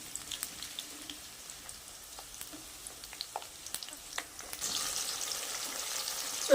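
Drumstick pieces fry in oil over medium heat for a pickle, giving a quiet, steady crackle and sizzle with scattered pops that grows slightly louder toward the end.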